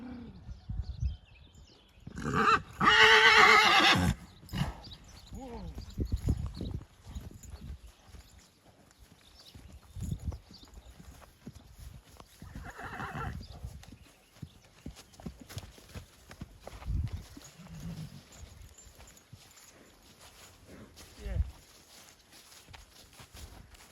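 A mare from a farm in Nараїв... a loud whinnying burst early on, then steady clip-clopping hooves on a hard surface continuing at close range, with no talking.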